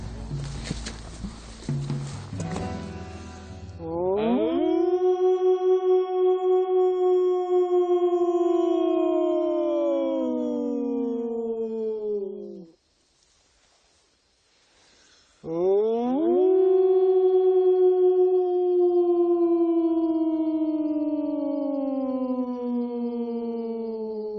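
Wolves howl from a mountainside above a mountain dairy, long rising and falling tones in two drawn-out choruses separated by a brief silence, loud and clear with a short noisy stretch at the start.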